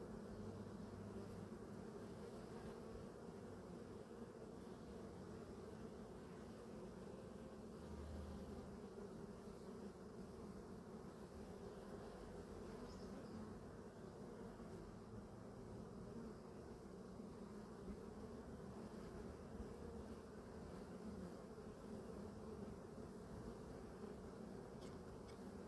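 Bees pour out of a hive during an oxalic acid sublimation treatment, their dense buzzing swarm droning steadily and close for the whole stretch.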